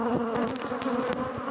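Honey bees at an opened beehive hum in a dense, steady close-up buzz with no talking.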